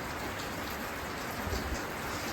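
Steady rain falling outdoors, a soft continuous wash of patter with no distinct drops, low and even throughout, no voices.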